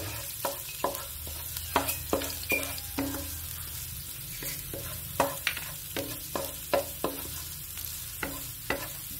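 Garlic frying in a pan for a pizza omelette, with a soft steady sizzle broken by a regular run of sharp utensil scrapes and clacks as it is stirred.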